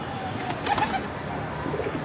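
Domestic pigeons coo while pecking at wheat and paddy grains, with soft, low cooing notes scattered over a steady background of shuffling and rustle and a few sharp taps.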